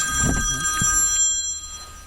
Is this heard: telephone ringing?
yes